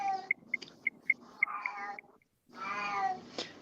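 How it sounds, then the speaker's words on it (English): A cat on a front porch outside gives a run of short, repeated meows followed by a longer, drawn-out cry, heard moderately close and clear, with no speech. "there's a freaking cat outside on our front porch"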